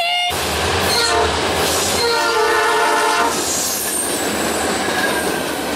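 A CSX intermodal freight train passing close and loud at a railfest, with long horn blasts, rumbling cars, wheel squeal and rhythmic clickety-clack.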